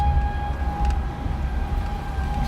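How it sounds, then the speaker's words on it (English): A warning siren holds a steady tone during a destructive plains thunderstorm, with rumbling wind noise beneath it throughout. "Siren sounding."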